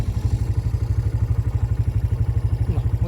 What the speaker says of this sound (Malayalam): അപ്പോൾ അതുവരെ നമുക്കിങ്ങനെ ബൈക്ക് റൈഡ് ചെയ്തുകൊണ്ടിരിക്കാം കേട്ടോ